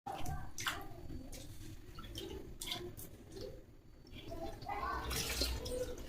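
Black pomfret fish being washed for curry, with running water splashing and sloshing in bursts close by, and brief soft talk in between.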